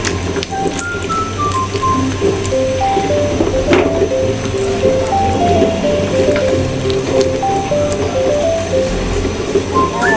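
Broth is poured into a pan of eggplant and puti fish curry, giving a continuous wet splashing and bubbling hiss under steady background music with a simple melody.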